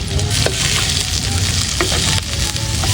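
Garlic, onions and bay leaves sautéing in a pan for chicken adobo outdoors by a river, a steady close sizzle and crackle of frying with occasional stirring scrapes throughout.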